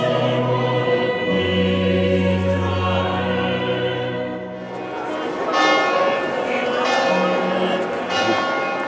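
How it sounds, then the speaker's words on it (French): The bells of San Marco basilica in Venice ring with sustained, overlapping tones that fill the air, joined midway by a busier outdoor wash of sound. "Ce sont les cloches de San Marco que nous entendons présentement."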